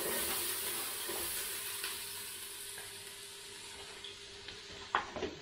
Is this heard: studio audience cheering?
no